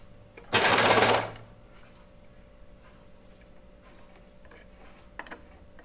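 A sewing machine runs a brief burst while sewing a seam on a sweater, a loud close whir of about half a second, followed by quiet handling noises and faint clicks.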